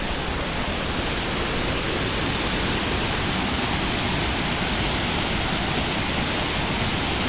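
Waterfall in Bali roaring steadily as a dense, unbroken wash of falling water, loud and close, with no other sounds rising above it.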